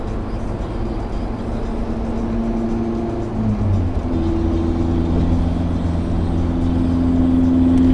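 An Isuzu car passes with a low steady engine rumble and hum that rises slightly as it nears, heard from close by over continuous road noise.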